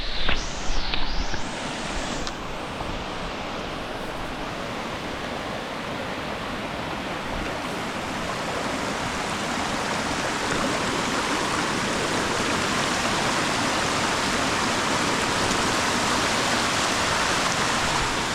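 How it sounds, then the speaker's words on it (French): A waterfall on a mountain trail roars with a dense, steady rush of falling water, loud and close, growing slightly fuller as it continues. "on arrive à la cascade, on va se mouiller"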